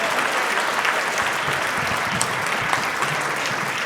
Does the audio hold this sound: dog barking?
no